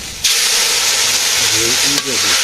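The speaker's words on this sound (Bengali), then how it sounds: "মশলা দিয়েছি, মশলা দিয়ে একটু কষিয়ে নিই।" Fried potatoes with spices sizzle steadily in a pan, a loud continuous frying hiss that jumps in after a brief quiet start, with a short dip near the end and a faint low hum or voice underneath.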